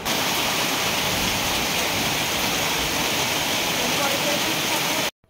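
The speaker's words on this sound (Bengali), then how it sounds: "এখন খুব জোরে বৃষ্টি পড়ছে" Heavy rain pours down in the Dooars hills on the way to Kalimpong, a loud, dense, unbroken roar of falling water for about five seconds before it cuts off abruptly.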